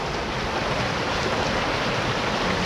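Heavy rushing water roars steadily and loudly outdoors, a dense unbroken wash with some wind buffeting the microphone, no talking.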